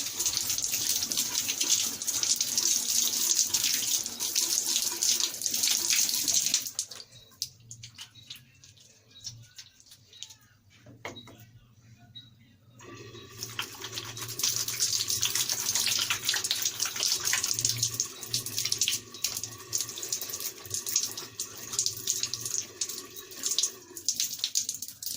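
A faucet runs steadily for hand washing, a close hissing stream that stops for several seconds midway and then starts again with splashing and trickling in the sink. No one speaks.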